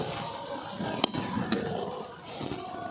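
Sugar being stirred into boiling milk thickened with custard powder while making a bread-based sweet; a steady soft bubbling sizzle runs throughout, with two sharp spoon clinks against the pot partway through.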